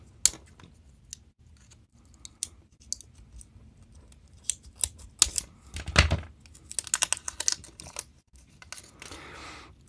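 Sharp, irregular snipping and clicking from scissors cutting stiff plastic battery sleeving on a USB camping light, close by, with scattered crackles and a denser burst of cutting partway through.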